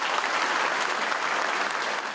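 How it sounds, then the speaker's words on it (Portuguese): An audience at the Exame magazine business forum applauds, a dense, steady burst of clapping filling the room at even loudness. "aplausos no início, no meio"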